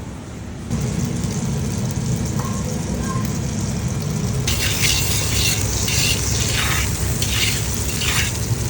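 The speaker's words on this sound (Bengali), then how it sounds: "আমি এখন এগুলো ভেজে নিব।" Fish cutlets fry in a pan with a steady, loud sizzle and hiss that starts abruptly and continues, brightening with crackling spatter in the later seconds.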